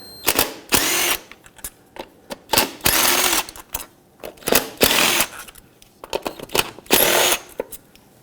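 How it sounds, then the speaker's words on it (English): A power ratcheting tool whirs in several short, loud bursts separated by quiet pauses and small clicks, removing 10 mm bolts from the ignition coil pack on a 2.4L Jeep Wrangler. "Use a 10 millimeter socket and remove all 4 of these bolts"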